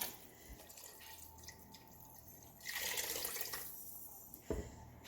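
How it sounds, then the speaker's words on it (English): Water pours into a stock pot holding beef bones, a steady faint splashing that swells into a louder gush midway, then settles back, with a clunk near the end. "we need to add the rest of the water into our stock pot"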